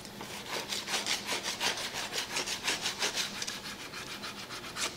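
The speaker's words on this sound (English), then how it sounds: "If your edges are a little rough, maybe you wanna sand them." Rough edges of a leather back panel are sanded by hand in quick, rhythmic back-and-forth strokes, a close, scratchy rasping repeated about a dozen times with no talking.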